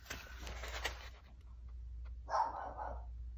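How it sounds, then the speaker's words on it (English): A dog barks once, faint and in the background, with some panting or snuffling beforehand in a quiet room. "Ignore the dog."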